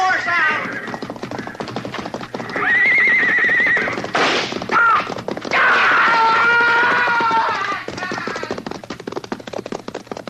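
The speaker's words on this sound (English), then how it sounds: "he's trying to ride the horse out" A horse neighs and whinnies repeatedly in a frontier radio drama scene beside a burning hayrick, loud shrill calls mixed with hoof clatter and agitated voices.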